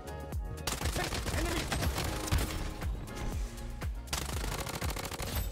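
MP5 submachine gun fire in the Bloodstrike shooter game, with rapid bursts of sharp automatic shots repeating through the clip, loud and close over busy game background noise.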